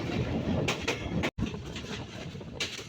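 Tungipara Express running through Harian railway station in Rajshahi, a steady rolling rattle of carriages with rhythmic clacks and a brief sudden dropout midway.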